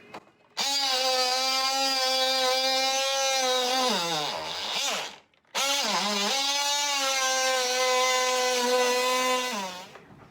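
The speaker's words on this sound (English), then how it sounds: "That's the problem with the multi-tool, using the multi-tool, is that it does heat up" Loud, buzzing whine of an oscillating multi-tool cutting a channel into a finished wooden floor above the subfloor, two long sustained cuts with pitch sagging under load, separated by a brief pause.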